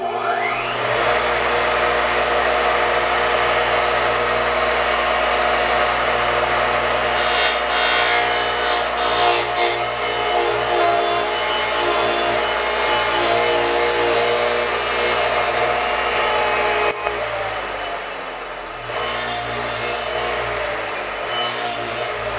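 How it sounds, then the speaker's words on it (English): A power tool cuts through walnut in a woodworking shop, with the wood clamped against a vise stop, giving a steady, loud, continuous rasping cut that runs nearly unbroken and drops slightly near the end. "So let's cut some walnut."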